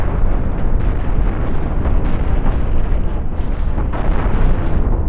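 Ship cannons firing and explosions in the Cosmoteer space battle game, a loud, continuous barrage of booms and bursts piling onto each other with no breaks.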